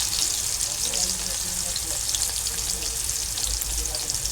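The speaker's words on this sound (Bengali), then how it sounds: "আগে আমি টমেটোটা দিয়ে দিচ্ছি তেলে" Tomato frying in fish oil gives off a loud, close, constant sizzle with crackling spatters, heard alone for a few seconds.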